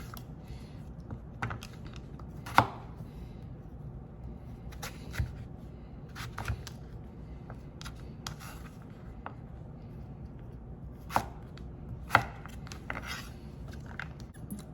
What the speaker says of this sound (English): We're just going to make bite-sized cubes.